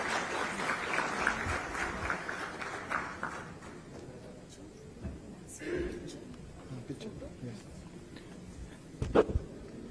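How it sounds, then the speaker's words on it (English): Applause from a conference audience for a minister at a CII international aerospace summit, a broad wash of clapping over the first few seconds that fades out, followed by quieter room noise and a voice speaking. "A big round of applause, please."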